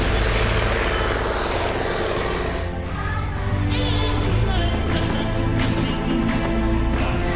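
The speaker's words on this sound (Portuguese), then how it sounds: "os aviões biplanos." A loud, steady biplane propeller engine drones throughout, with a throbbing buzz and shifting whine as the plane passes.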